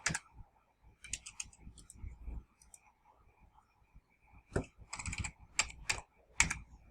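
Quiet, close clicking and typing on a computer keyboard and mouse in irregular bursts, with sharp taps clustered near the end and a faint murmur in between.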